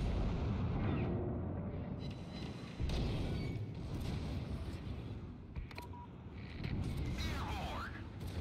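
Naval guns fire in a World of Warships game as deep booming blasts and rumbling over a low engine drone, with a player talking throughout and a faint whistling shell near the end.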